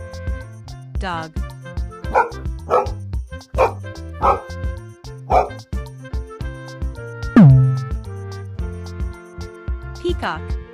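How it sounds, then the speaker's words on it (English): A dog barks and yips in a quick series of sharp, close calls, one longer whine-like yelp near the end, alongside other voices. "Dog."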